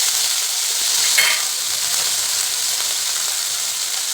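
Finely chopped, peeled potato frying in a pan, a constant close sizzle and hiss with a brief stirring scrape near the start and no voices.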